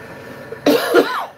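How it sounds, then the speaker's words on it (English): A single close, sharp cough, loud and brief, after a quiet moment. "This cough will not go away at all."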